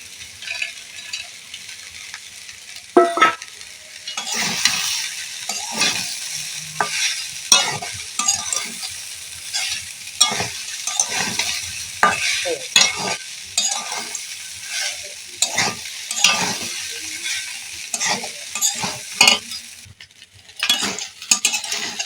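A spatula scrapes and stirs flattened rice poha with fried peanuts in a pan, a steady run of close, rhythmic scraping strokes over a soft sizzle, with no voices.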